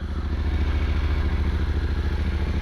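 A Yamaha Tenere 700 adventure motorcycle idles steadily nearby, a throaty, even engine pulse with a slight mechanical clatter, loud and alone.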